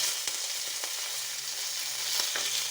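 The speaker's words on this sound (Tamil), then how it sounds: "அடுப்பை சிம்மில் வச்சு கருகிராமல் நல்லா செவந்து வர வரைக்கும் வதக்கணும்." Spices for a roasted-and-ground vathal kuzhambu sauté in a pan over a low flame, making a faint, steady sizzle broken by a few soft clicks.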